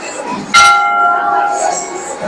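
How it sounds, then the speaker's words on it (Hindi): A huge temple bell at the Maa Chandika Shaktipeeth temple in Munger is struck once, its sharp clang sustaining into a long ringing hum, with murmur from the crowd behind. "अब देखिए यह विशाल घंटी भी शक्तिपीठ माँ चंडिका मंदिर की एक विशेषता रखता है।"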